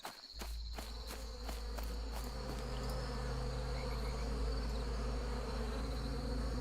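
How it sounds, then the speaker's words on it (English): Steady, dense bee buzzing drones without a break from a beehive in the video game Adrullan Online, with a few soft clicks at the start and no talk. "No bees. Bees!"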